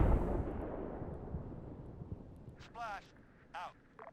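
Artillery shells explode in the video game Arma 3: a deep rolling boom opens and slowly fades into a long rumble, followed by a few brief warbling, whistling bursts.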